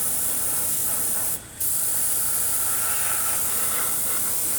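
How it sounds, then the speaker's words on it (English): Paint sprays onto a Jason hockey mask cosplay prop in a continuous close hiss, cutting out briefly for a moment before resuming steadily. "So when I spray through the model like this to create my shadow"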